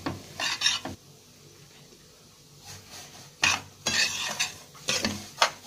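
Kunafa dough being stirred in a pan with a utensil until lightly golden, giving soft scraping and rubbing strokes in uneven bursts with quiet gaps between, close and moderately loud.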